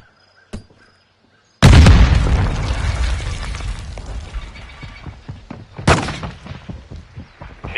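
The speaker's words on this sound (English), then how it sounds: "Grenade!" A grenade detonates with a loud, sudden boom in a military shooter video game, then a long rumbling decay, a second sharp blast follows a few seconds later.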